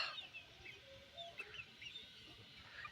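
Faint, high chirping and cheeping from small native-breed chicks in winter, scattered brief calls over a quiet background.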